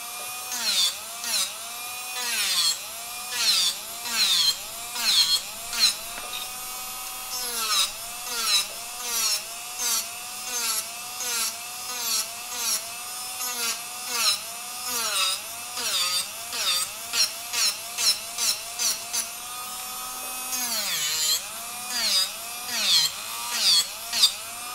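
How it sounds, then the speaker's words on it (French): A power sander grinds steadily against gel nails in repeated back-and-forth strokes, the motor's pitch dipping and rising with each pass, close and loud. "Bien faire attention au sens de la ponceuse, si vous avez une ponceuse qui tourne dans les deux sens"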